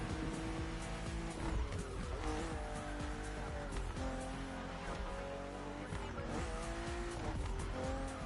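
A BMW CSL in The Crew Motorfest, its engine droning loud and constant with rising and falling pitch through gear changes, along with intermittent tire squeal.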